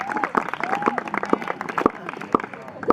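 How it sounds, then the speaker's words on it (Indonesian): At a poetry reading, an audience gives scattered, uneven hand claps in sharp separate bursts, mixed with crowd chatter and voices nearby. "Respect buat Syara, tepuk tangan dulu."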